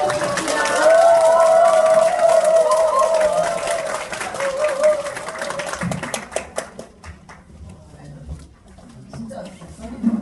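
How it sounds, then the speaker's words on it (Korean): An audience at a business seminar claps and cheers to welcome the leader, loud and dense at first, then thinning into scattered claps as a voice carries over the top. "리더님을 큰 박수로 모시겠습니다."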